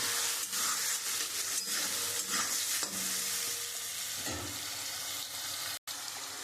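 Onion, garlic, ginger and tomato frying in masala for a chicken curry, a steady bright sizzle with occasional stirring scrapes, close and continuous, with no talking.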